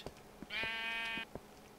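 A single Minecraft sheep bleat rings out clearly, a short wavering baa over quiet background clicks and taps.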